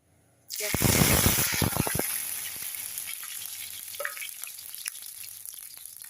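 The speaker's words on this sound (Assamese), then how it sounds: "শুকান জলকীয়া তেলত দি লওঁ।" Dried chillies hit hot oil in a wok, bursting into a loud, sudden sizzle that settles into a steady crackling fry with scattered pops. No one speaks.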